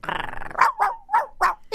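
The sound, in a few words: small dog barking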